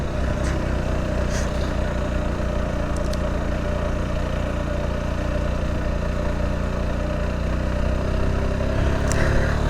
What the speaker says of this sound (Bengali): এত শক্তিশালী ইঞ্জিন